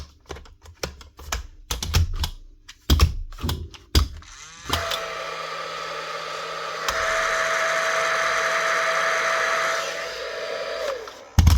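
A new Paslode nail gun with its motor running rough and rattly, a sustained whirring buzz with metallic rattle following a series of sharp clicks and knocks.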